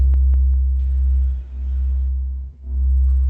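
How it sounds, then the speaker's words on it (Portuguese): A loudspeaker car passing along the street outside, heard as a heavy, booming low-frequency rumble that swells and dips, with faint tones above it. "é um carro de som passando na rua"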